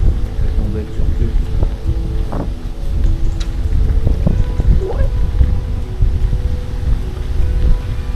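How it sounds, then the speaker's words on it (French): Strong wind buffets the microphone on a bike ride along a countryside path, a loud, low, gusty rumble that swells and dips throughout, with someone speaking briefly over it. "Beaucoup de vent"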